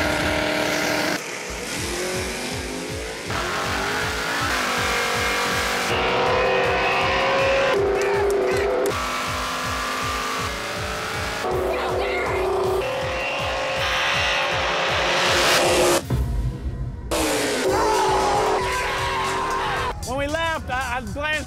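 Drag race cars at Houston Raceway Park, loud roaring engines revving and accelerating hard in several bursts with abrupt cuts between them and brief tire squeal, with voices talking at times.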